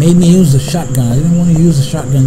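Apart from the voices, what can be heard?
No everyday noise stands out behind the speech.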